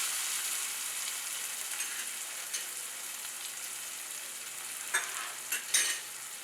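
Vegetables sauté in a pan for farali khichdi, a soft steady sizzle with a few louder scraping stirs near the end and no talking.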